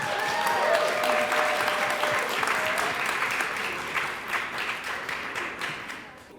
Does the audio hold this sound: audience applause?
yes